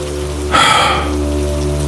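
Rain falls in a Hindi cartoon story, a sudden burst of hissing downpour that swells in and then holds as a steady patter over a low constant hum, with no voices.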